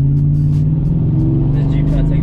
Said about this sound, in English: let's go for this drive and the F-150